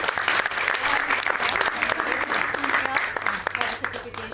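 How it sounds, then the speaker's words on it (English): Dense applause from an audience after a children's stage performance, loud and sustained for several seconds, with crowd noise and voices mixed in. "I think we all need to give them a big round of applause"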